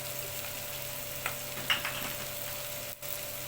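Onion fries in a pan with a low, even sizzle, broken by a couple of faint stirring scrapes.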